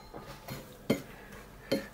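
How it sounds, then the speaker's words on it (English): A spoon stirs water into food in a bowl, scraping and clinking against the sides in a few soft, spaced strokes with two sharper knocks, quiet and close, with no talking. "just stir this roughly in so it doesn't stick in the edges."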